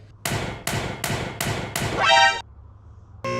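Five sharp, evenly spaced hammer strikes ring out on metal on an LS-swapped Chevrolet S-10, the last one trailing into a scraping sound before a final clank.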